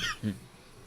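A single short cough from a snooker match commentator, close and muffled, followed by quiet room tone.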